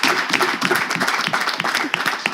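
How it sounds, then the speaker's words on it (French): An audience at a French-language debate contest claps for a participant, with brisk, dense applause of many hands that stays loud and close throughout. "On va encourager Elvis en applaudissant pour Agim."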